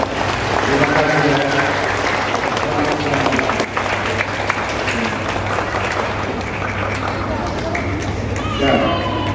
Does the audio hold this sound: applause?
yes